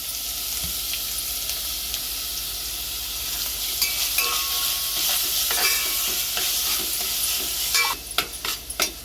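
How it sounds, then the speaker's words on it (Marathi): Grated coconut and jaggery are stirred in a pan for a modak filling, giving a continuous scraping, rustling stir over a light sizzle. It grows busier and louder toward the end, with sharp spoon scrapes and no speech. "आणि खोबरं आणि गूळ टाकायचं. चांगलं व्यवस्थित मिक्स करून घ्यायचं."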